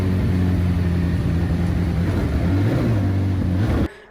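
A McLaren 720S engine runs at a steady idle, a loud continuous low drone with a slight dip in pitch before it cuts off abruptly near the end.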